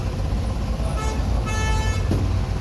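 Dense road traffic rumbles nearby, with several car and bus horns honking in short bursts over the steady engine noise.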